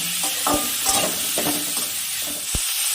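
Chopped tomato frying in oil for a chital fish dish makes a loud, constant sizzle, with a few rough stirring scrapes and a sharp knock near the end.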